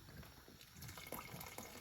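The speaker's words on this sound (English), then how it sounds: "So I'm gonna add some more water to this now," Water poured into a pot of Jamaican oxtails as they cook, a steady close splashing and trickle of liquid that runs without a break for a couple of seconds, with no voices.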